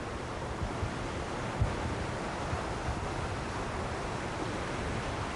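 Sea waves wash steadily onto a beach, a continuous broadband surf roar with light wind, no voices.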